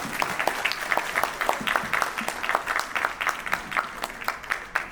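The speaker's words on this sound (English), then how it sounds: "give a big round of applause to Deep and Sanjeev." Audience claps for panelists at the end of a session, sparse and fairly soft with individual hand claps distinct in an uneven rhythm.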